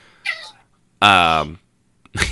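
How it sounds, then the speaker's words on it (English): A cat meows in a single drawn-out, loud, harmonic cry lasting about half a second, with shorter voiced sounds just before and after it, during a radio show. "Is that your cat?"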